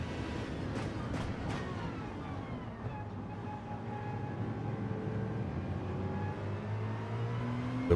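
Race car engines in the Gran Turismo 7 game, a steady droning roar with tones that slowly rise and fall as cars run close together, continuous and moderately loud.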